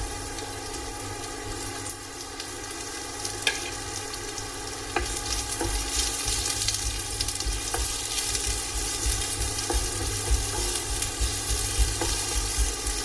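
Onion frying in about 1.5 teaspoons of coconut oil in a hot pan, a close steady sizzle and crackle with scattered pops that grows louder about halfway through.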